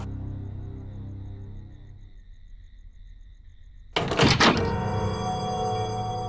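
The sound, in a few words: door being closed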